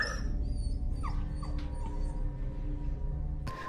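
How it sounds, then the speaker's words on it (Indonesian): A dog indoors, heard from another room, gives soft whimpering yips and a few short barks over steady low background noise, with a sharper bark near the end. "Dina mendengar si Asu yang menggonggong di dalam."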